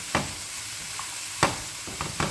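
Yellow squash, broccoli and leaves stir-frying in a skillet, a constant hiss of sizzling broken by a few sharp stirring scrapes and taps, close with no voices.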